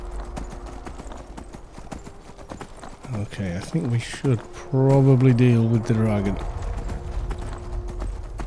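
Horse hooves clip-clop steadily in the video game Skyrim, a rapid run of light, even hoofbeats throughout, joined by a brief whinny-like animal call in the middle while someone talks over it.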